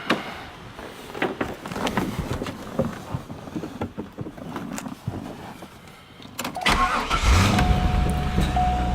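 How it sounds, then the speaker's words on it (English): A 2001 Chevrolet C5 Corvette LS1 V8 engine, sitting out of the car for sale, cranks amid clicks and rattles, then catches near the end and settles into a loud, steady idle. "As you can see, this engine starts right up."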